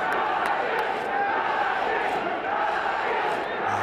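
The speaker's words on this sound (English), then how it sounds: "a little bit more energy in the crowd and participation now that we've had 2 quick wickets" Cricket stadium crowd during a PSL 2017 eliminator between Karachi Kings and Islamabad United, cheering and roaring as a steady, dense wash of many voices after quick wickets.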